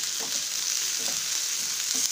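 Soaked, squeezed soya chunks sizzle steadily in a pan, a soft continuous frying hiss with faint stirring scrapes at regular intervals and no talking.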